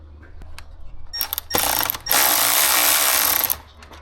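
A ratchet wrench works a 10 mm bolt on the radiator shroud of a 2015-or-later Ford F-150, giving a few short clicks and then a steady, close, loud run of ratcheting clicks for about two seconds, with no talking.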